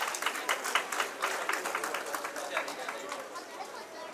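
Applause at a cooperative credit society's annual meeting, many hands clapping in a brisk, fairly close burst with some crowd chatter mixed beneath.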